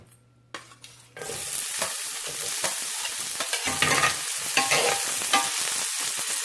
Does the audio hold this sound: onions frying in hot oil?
yes